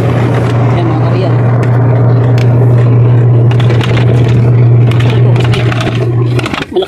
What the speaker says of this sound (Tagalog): Malakas ang motor.